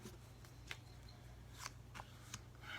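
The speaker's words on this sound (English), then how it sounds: "One more shuffle." Tarot cards being shuffled by hand, a few soft riffling bursts spaced apart over a low steady hum, quiet and close with no speech.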